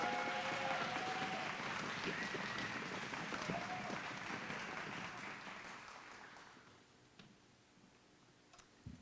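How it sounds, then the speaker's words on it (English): Applause rises for a board member at the Hyattsville Middle School ribbon cutting, then fades away over several seconds, leaving only a few scattered claps. "round of applause for Board Member Boozer-Struthers"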